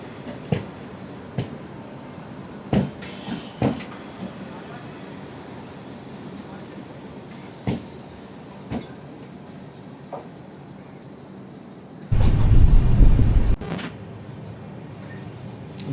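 An express train starts moving out of a station near Ernakulam with scattered metallic clanks and knocks, then a short loud burst of rumbling noise, while a voice talks at points.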